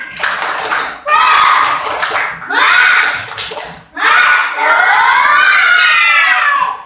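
Third-grade schoolchildren in a classroom perform a rhythmic spirit clap chant, loud bursts of clapping and shouted unison voices in several segments with short pauses between them.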